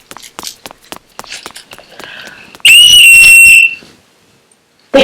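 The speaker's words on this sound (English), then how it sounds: "They heard a whistle." Hurried running footsteps patter close by, then a night watchman gives one loud, shrill whistle blast lasting about a second, followed by quiet.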